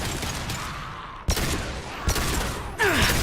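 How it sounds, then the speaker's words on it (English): Three sharp, heavy blasts of a concussive shot in Mass Effect 2 punch out at roughly even intervals over a continuous bed of combat noise, the last followed by a swooping tonal whine. "Firing concussive shot!"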